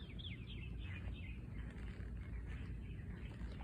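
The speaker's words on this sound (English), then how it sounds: "You can hear the birds singing in the background." Birds sing outside a Florida home, with faint, distant chirps and short trills over a low, steady background rumble.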